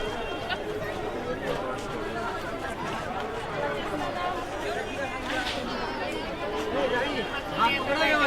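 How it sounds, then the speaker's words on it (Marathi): Dense crowd chatter and babble at the Mhasa fair in Maharashtra, a large rural jatra with stalls selling blankets and sweets, a steady continuous hubbub of many voices with no single speaker standing out. "गर्दी वाढत चालली आहे."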